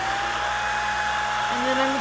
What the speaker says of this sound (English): here's my diffuser. I'm going to turn it onto the low blowing setting and the coldest setting.